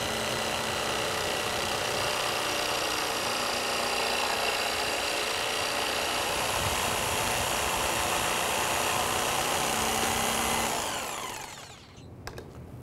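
A power saw rough cutting a rounded corner on a wooden workpiece, a loud, close, sustained whining buzz of motor and blade biting wood that holds steady for about ten seconds, then winds down as the cut ends.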